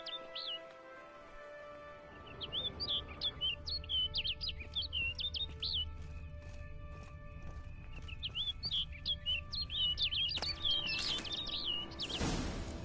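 Bird chirping in The Witcher 3: Blood and Wine, with bursts of quick bright tweets repeating over several seconds above a low ambient outdoor bed, close and clear with no talk.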